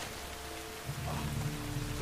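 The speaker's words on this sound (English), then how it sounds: "All of this rain must be so depressing." Heavy rain pours steadily in a muddy wartime jungle camp, a dense continuous hiss with a low rumble underneath, sounding close and unbroken throughout.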